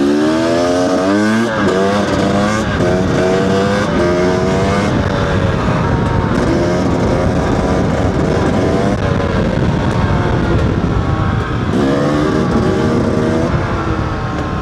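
A two-stroke 300cc dirt bike engine runs loud and close while being ridden, revving up and down continuously with rising and falling pitch throughout, no voices present.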